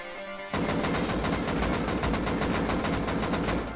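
An automatic weapon in the video game Rust fires a continuous rapid burst with recoil, loud evenly spaced shots following a brief quieter start, running to the end.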